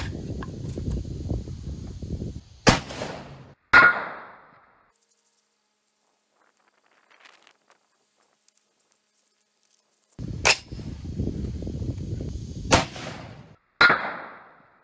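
Rifle shots from a 6.5 Creedmoor and a .308 Win fired at a 1/4 inch mild steel plate: about four sharp, loud cracks in two groups, each with a ringing tail, separated by background rustling and a long quiet gap.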